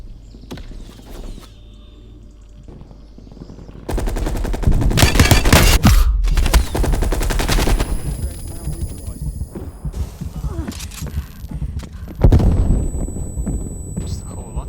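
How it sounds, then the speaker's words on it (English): Automatic sentry turret gunfire in Call of Duty Cold War: loud, dense bursts of rapid shots in sustained volleys, with quieter gaps between bursts. "Hostile sentry turret active."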